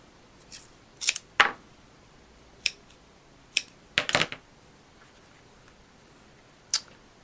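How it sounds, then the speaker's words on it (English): Scissors snip through thin strips of card at a craft bench, a few sharp crisp cuts scattered irregularly with pauses between them, close and fairly quiet with no talking. "Of course, I have to cut these even thinner."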